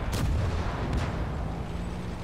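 An artillery shell strikes a tank in World of Tanks and ricochets, giving a sharp boom followed by a second lighter impact and a low rumbling tail, fairly faint overall.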